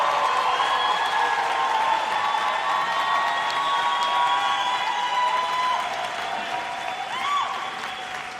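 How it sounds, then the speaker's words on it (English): A large audience at a conference for Palestine applauds the Palestinian Youth Ensemble after a performance, sustained dense clapping from a big crowd with faint cheers, easing slightly toward the end. "another round of applause for the Palestinian Youth Ensemble"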